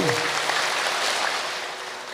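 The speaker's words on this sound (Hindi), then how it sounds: "तीन बार तालियां बजाएंगे।" Audience clapping during a spiritual gathering, a steady wash of many hands filling the whole stretch, fairly even and moderately loud, easing slightly toward the end.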